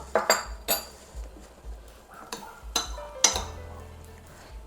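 A utensil clinks and scrapes against a bowl in scattered bursts while salted grated zucchini is stirred, close by, with quiet gaps between strikes.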